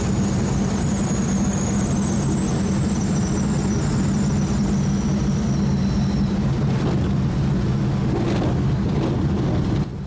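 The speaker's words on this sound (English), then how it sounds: "watch during the flare here how fast the aircraft runs out of energy, how quickly the airspeed decreases." A warbird trainer airplane flares and lands during a practice forced landing, its engine giving a loud, steady low drone that fills the cockpit throughout, with a faint whine fading out partway through.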